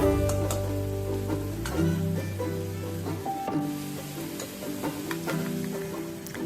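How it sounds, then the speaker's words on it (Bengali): Tomato paste and spices fry in oil in a pan, a steady sizzle with occasional stirring clinks and scrapes, close and moderately loud. "সেটা আমি মিশিয়ে দিলাম আর তেলে মশলাগুলোর সাথে খুব ভালো করে কষিয়ে নিচ্ছি"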